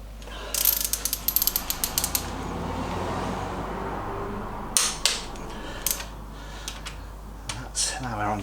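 A short wrench works the cylinder head nuts on an MGB engine, giving rapid ratchet clicks in a burst, then scattered single clicks and knocks nearby over a steady background hum. Someone talks briefly at points.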